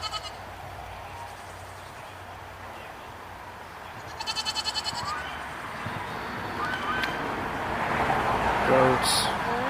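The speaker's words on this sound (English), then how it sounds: "goats." Goats on a rainy farm bleat a few times, faint and distant beneath steady rain hiss, with a brief rattling burst midway and a louder call near the end, while a person speaks softly.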